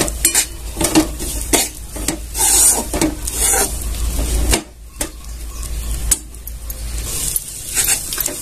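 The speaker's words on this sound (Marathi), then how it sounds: "मैदा छान असा भाजून घ्यायचा आहे।" Flour roasting in ghee over low heat as it is stirred, a utensil scraping and clinking against the pan in repeated strokes with a soft sizzle, close and fairly loud, then briefly quieter.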